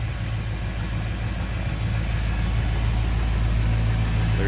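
The V8 engine of a 1949 Chevrolet 3100 5-window pickup, fitted with an Edelbrock Performer intake and an Edelbrock 4-barrel carburetor with electric choke, idles as a steady, close, low rumbling throb.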